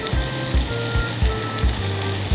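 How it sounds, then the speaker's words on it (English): Chicken pieces sizzling while being grilled in a hot pan, a steady close frying hiss with low, pulsing bursts repeating roughly every half second, heard alone without talk. "We're actually grilling our chicken."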